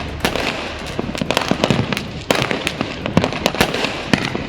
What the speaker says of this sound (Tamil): பொதுமக்கள் பட்டாசு வெடித்ததில் நகரே வண்ணமயமாக காட்சியளித்தது.